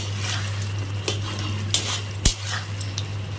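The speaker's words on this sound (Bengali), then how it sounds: "আমি কড়াইয়ের মধ্যে খুন্তি দিয়ে ম্যাশ করে নিয়েছি" A metal spatula mashing boiled olives in a wok for chutney, with scattered scraping strokes and a few sharp clanks over a steady low hum.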